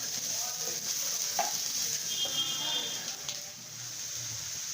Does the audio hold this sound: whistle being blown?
no